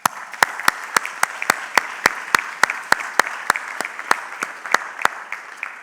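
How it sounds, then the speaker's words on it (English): Graduation-ceremony audience clapping for newly graduated BSc students, a steady wash of many hands with sharp, evenly spaced louder claps cutting through at a regular beat, sustained throughout. "let's give our BSc students a big round of applause"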